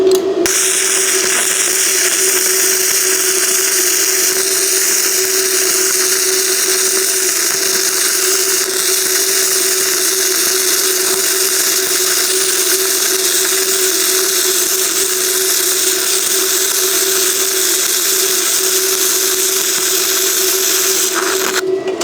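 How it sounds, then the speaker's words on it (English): Flux core MIG welding on a piece of scrap strap metal, using a BestArc Mig145 multiprocess welder: a loud, steady crackling buzz runs unbroken for about twenty seconds, with no talking. "I'm going to weld on a piece of scrap strap metal that I have found here"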